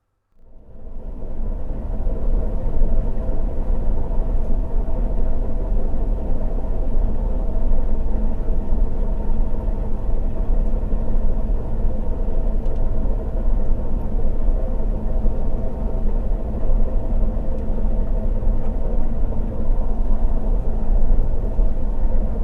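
A combine harvester unloads grain into a trailer alongside it, giving a steady, loud low engine rumble with a constant mechanical drone that runs unbroken for the whole stretch, with no talking.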